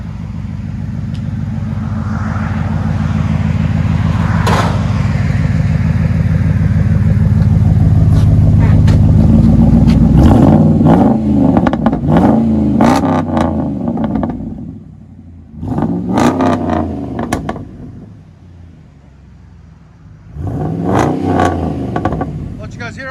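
A 2007 Dodge Ram 4.7L pickup with Flowmaster Flow FX true dual exhaust holds a loud, close droning rev for several seconds, then drops and blips repeatedly in short rumbling bursts.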